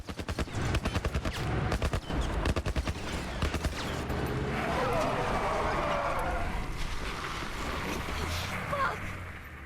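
A rapid burst of close gunfire opens this The Last of Us scene, a string of sharp evenly spaced shots for about two seconds, then fades into tense ambience with voices talking over it.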